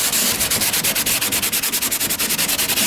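Sandpaper rubs a fiberglass car bumper by hand in fast, even back-and-forth strokes, loud and close, a steady rasping rhythm with no talking.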